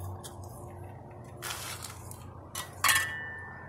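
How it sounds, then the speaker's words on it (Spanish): Water is poured onto potting soil around young tree seedlings ready for transplanting, making a few soft, brief splashing and squishing bursts, quiet overall, with a small clink near the end. "le vamos a echar agua aquí"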